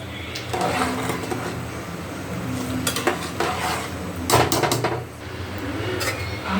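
A spoon scrapes and turns bagara rice in a metal pot in a home kitchen, giving steady scraping and clinking with a few sharper knocks against the pot, close and fairly loud throughout.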